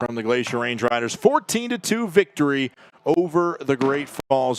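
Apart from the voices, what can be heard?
No everyday noise stands out behind the speech.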